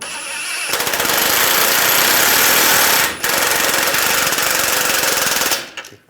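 Impact wrench hammering on a tie rod nut of a 2011-2018 Ram 1500 front suspension, a loud continuous rattling burst lasting several seconds with a brief pause in the middle before stopping.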